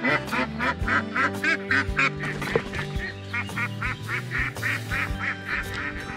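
A young female duck quacks in a fast, continuous run of nasal calls, close and loud, with other fowl honking in the background outdoors.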